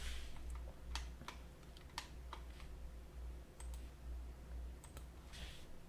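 Computer mouse clicks in a CAD program, heard as a few sharp, light clicks spread irregularly over a steady low hum from the room or computer, close by, with no voices.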